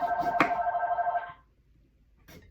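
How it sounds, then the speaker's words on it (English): A telephone rings with a bright electronic tone, one ring lasting just over a second before cutting off, followed by near quiet and a faint sound at the end. "Oh, my phone's going off."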